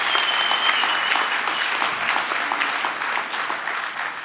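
A large graduation-ceremony audience applauds steadily and loudly, a dense continuous wash of many hands clapping that holds throughout without any speech on top.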